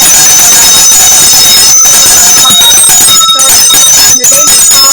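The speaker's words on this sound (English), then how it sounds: "I will ring the bell to this candle." A bell rung during a candle ritual, sounding as a loud, dense metallic ringing that fills the whole stretch, with sustained bright overtones and no talking.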